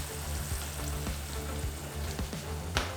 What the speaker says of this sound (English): So our oil is at the bubble that I want it to